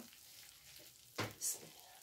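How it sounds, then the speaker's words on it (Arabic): Bread toasting in a frying pan, giving a soft steady sizzle with a sudden louder crackle and sear burst midway as the pieces are stirred, followed by a brief hiss. "بصوا هنحمص بس العيش كده كويس"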